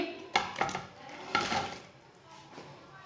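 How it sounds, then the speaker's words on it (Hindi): Pakoras being dropped into kadhi in a pot and stirred, a few quick clattering scrapes and splashy thuds close by, followed by a softer stirring sound and light simmering, with no talk. "अब इसमें पकोड़े डाल लेंगे"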